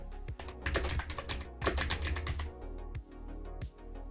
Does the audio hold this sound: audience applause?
no